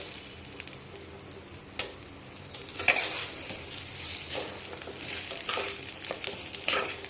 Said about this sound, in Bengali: তাহলেই বুঝতে পারবে চালটা ভাজা হয়ে গেছে